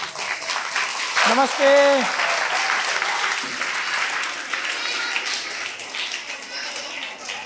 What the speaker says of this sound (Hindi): एक बार ताली बजा करके स्वागत करिए आप लोग